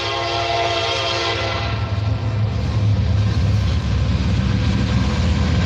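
A loud Norfolk Southern freight train rumbles steadily past up close in Beaver Falls, Pennsylvania, its horn sounding with strong tonal blasts at the start before the heavy wheel and engine noise takes over.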